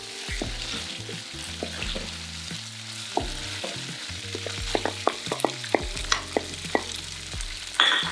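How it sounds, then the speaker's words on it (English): Mushrooms fry in a pan for shrimp egg rolls, giving a steady close sizzle broken by frequent sharp clicks and taps from a stirring utensil, with no talking. "we're gonna go ahead and add our mushroom"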